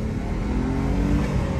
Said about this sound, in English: there's that premium Lexus Toyota engine just doing what it should do